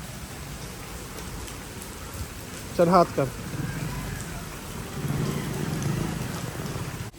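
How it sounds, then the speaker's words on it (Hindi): Steady rain hisses continuously in the background in a park in Delhi while a person speaks briefly partway through. "देखो कैसे बारिश का मौसम हो गया पूरा"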